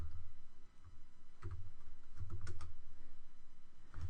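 Code is typed on a computer keyboard as a series of quiet, uneven keystroke clicks over a low steady hum.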